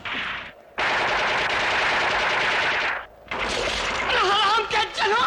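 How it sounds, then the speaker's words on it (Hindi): Loud, sustained automatic gunfire in a Hindi film scene, rapid bursts that stop briefly and then resume with shouting voices layered over the shots. "20 के 20 एक आदमी पे गोली चलाते हो"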